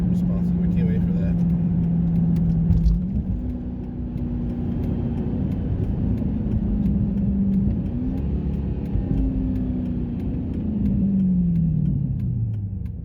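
Chrysler 300C SRT8 with a 6.1L Hemi V8 and an enclosed Corsa cold air intake, rumbling at idle then blipped through several rising and falling revs, deep and close, with a gurgling exhaust note and voices talking over it.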